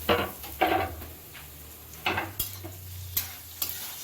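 Capsicum frying in a pan under a continuous sizzle, with a spoon scraping and tapping the pan several times as it is stirred, close by.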